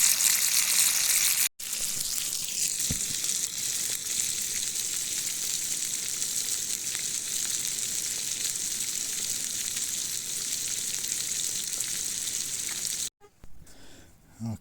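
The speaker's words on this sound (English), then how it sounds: "Sizzling nicely. That won't take too long at all to get these fillets cooked." Northern fish fillets fry in a pan outdoors, giving a loud, continuous, close hiss and crackle that holds steady for most of the stretch before cutting off abruptly near the end.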